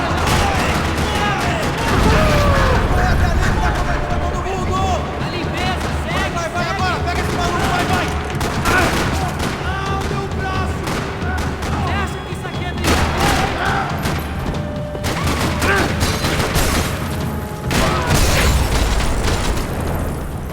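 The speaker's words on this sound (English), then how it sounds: "Another parking lot rattling with gunfire." Rapid bursts of gunfire and booming explosions rattle on and off in a parking lot in the video game Max Payne 3, with voices shouting over the din.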